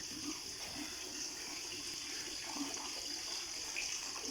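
Water from a waterfall in a garden flows steadily in a continuous, even rush, with no voices.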